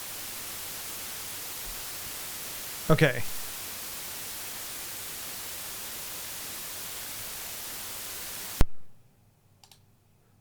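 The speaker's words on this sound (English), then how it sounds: "That sounds like white noise, right?" Generated white noise from a Rust WAV noise generator, a steady broadband hiss held at constant level, with a brief click and a short spoken word partway through before the noise cuts off abruptly into near silence.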